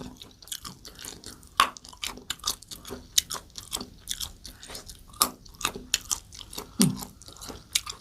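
Raw wild pak wan fruit is bitten and chewed up close, giving crisp, irregular crunches with wet mouth sounds between them.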